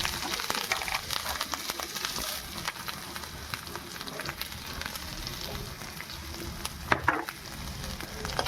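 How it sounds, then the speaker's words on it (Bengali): Chopped ginger and five-spice seeds sizzle steadily in hot oil in a wok, a dense continuous frying hiss with occasional stirring clinks and scrapes close by. "এই আদাটা যে আমি কুচিয়ে রেখেছিলাম ওটা তেলের মধ্যে ফোড়ন দেবো"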